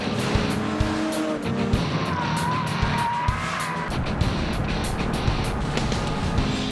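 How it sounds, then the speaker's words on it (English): Blue Cheetahs Ford Mustang race car lapping a track, its engine roaring loud and continuous with tire squeal and skidding, no talk. "He's now returning to the pits for another premature feeding of the Mustang and to hand the car over to Mike Burnett."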